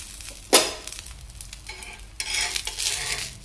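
Ghee hits a hot green moong sponge dosa with a sharp, sudden hiss, fades to quiet crackles, then swells again into a louder, bubbling sizzle with a few light utensil touches.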